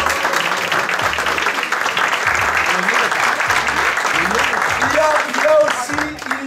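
A crowd at a restaurant awards evening applauds loudly and continuously, with a voice speaking over the clapping throughout.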